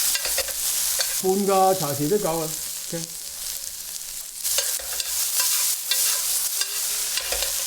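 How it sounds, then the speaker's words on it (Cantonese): Green beans and onions stir-fried in a hot wok give a steady, close sizzle with scraping and tossing throughout, while someone speaks briefly over the cooking. "We'll add the green beans to the onions and stir fry them for about a minute, tossing if you're able to."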